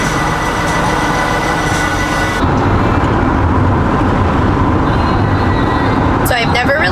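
A box truck, a 4x4 Ford Econoline van build, driving along the road, a steady rumbling road and engine noise heard from inside the cab while people talk over it.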